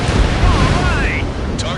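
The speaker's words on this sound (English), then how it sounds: "Confirming explosion. The rail cannon's been destroyed." A rail cannon blows up in Ace Combat, heard as a deep, rumbling explosion with a roaring low-end wash that lingers through the short moment, loud and close, alongside in-game radio voices.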